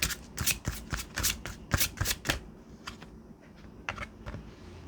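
Romance Angels oracle cards shuffled by hand, giving a run of quick, close riffling bursts, then a pause and a few softer, scattered card sounds.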